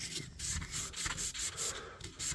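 Quiet, steady sanding on a vintage knife blade with light pressure: repeated back-and-forth rasping strokes with short pauses between them, close by and without talk.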